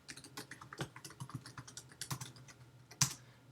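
Quick, close clicks of a computer keyboard as code is typed, irregular bursts of keystrokes with one sharper key tap near the end, quiet and alone with no talking.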